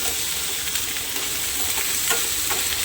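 Sliced onion and whole spices sizzle gently in a pan, a constant nearby frying hiss broken by a few faint stirring knocks, with no voices.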